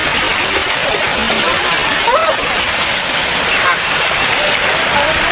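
A mountain waterfall stream in the Meghalaya hills rushing steadily, a dense broadband hiss of falling water heard close, with voices faintly talking over it.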